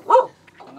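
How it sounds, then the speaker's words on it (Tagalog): A dog gives a single loud, close bark, followed by quieter whining or yipping sounds. "Ingay nitong aso mo, ah."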